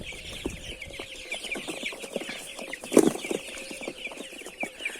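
Many broiler chicks cheep in a busy, continuous high chatter, with a brief louder cluck-like burst midway and no talking.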